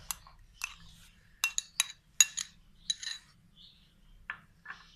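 A spoon scrapes and clinks against a bowl while chutney is mixed into whisked yogurt, a sequence of short, close, irregular taps and clinks with soft gaps between them.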